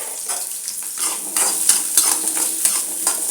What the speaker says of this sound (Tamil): சின்ன வெங்காயம் ஒரு கைப்பிடி அளவு போட்டு நல்லா துவக்க வதக்கிடலாம்